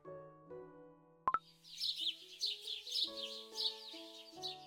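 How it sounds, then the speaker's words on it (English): Little birds in the Cookie Run Kingdom video game chirp in a quick, bright series of tweets over soft background music, following a single plop, with no speech. "Hello, little birds. Come for your morning berries again?"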